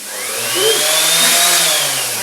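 A Bosch random orbital sander fitted with 240-grit paper works over painted kitchen cabinets, giving a steady, close whirring drone with a faint rising whine, continuous throughout.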